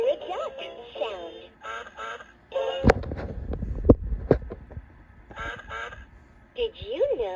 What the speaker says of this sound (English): Hear a duck sound.